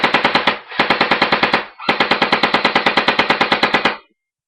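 Airsoft Thompson submachine gun firing on full auto in three rapid rattling bursts, loud and close, with short pauses between them and no talking.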